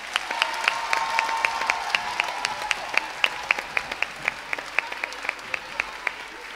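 A crowd applauds children performing at a school cantata, steadily, with sharp individual claps standing out above a dense wash of clapping that continues throughout.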